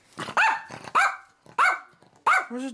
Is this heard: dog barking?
yes